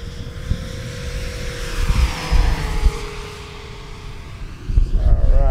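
A FREEWING de Havilland Mosquito RC model airplane flies near full throttle, its engine drone steady and fairly loud and rising and falling slightly as it turns, with a low rumble and wind noise throughout.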